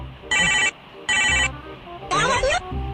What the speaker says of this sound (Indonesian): Oh, ada telepon siapa nek?